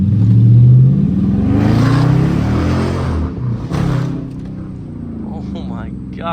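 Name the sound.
Dodge Charger RT engine revving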